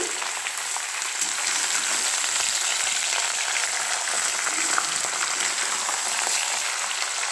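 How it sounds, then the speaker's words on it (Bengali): Chicken pieces fry with onions in a hot pan, giving a dense, steady, loud sizzle with crackling spatter that holds evenly throughout, close by and with no talking over it. "হ্যাঁ, চিকেনটা ফ্রাই করছি।"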